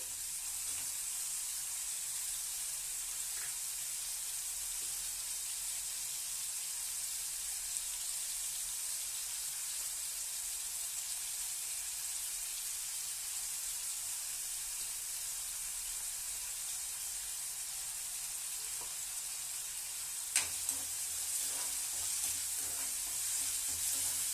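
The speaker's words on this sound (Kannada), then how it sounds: "ನೋಡ್ರಿ, ಈರುಳ್ಳಿ ಹಾಕ್ತೀನಿ. ಈರುಳ್ಳಿ ಫ್ರೈ ಆಗ್ಬೇಕ್ರಿ." Onions sizzle and fry in hot oil in a pan, a steady, dense crackling hiss that stays constant throughout, with a few faint clinks of stirring near the end.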